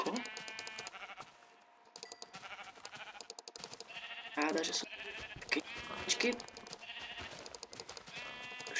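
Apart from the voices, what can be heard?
sheep bleating in Minecraft video game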